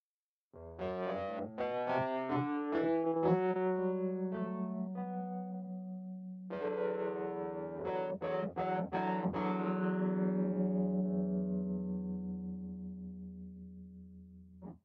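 Electric piano synth preset from a Taped Vibes patch for HALion Sonic, chords ringing out with heavy effects, warbling and slightly glitchy, a sustained passage followed by choppy stuttering hits that fade out.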